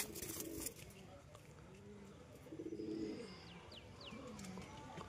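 A pair of good-quality pigeons cooing softly in a low, faint setting, with a few scattered chirps and calls over a quiet background.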